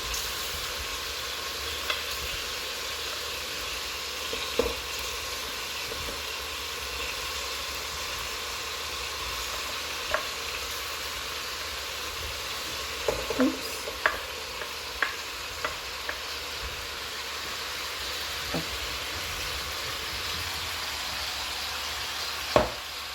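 Mushrooms fry in a pan for a long stretch, with a steady low sizzle and occasional scraping taps of a utensil stirring them.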